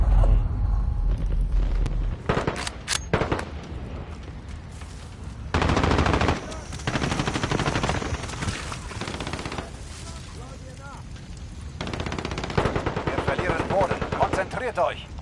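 A video game firefight: rapid bursts of automatic gunfire and heavy booms, loud and close, come in several volleys separated by brief lulls, with voices talking underneath.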